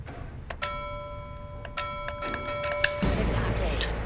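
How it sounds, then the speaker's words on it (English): A bell struck repeatedly in an uneven rhythm, each clear metallic ring sustaining briefly, with a louder rumbling noise swelling in during the final second. "Oh, you just keep right on ringing that bell, chum."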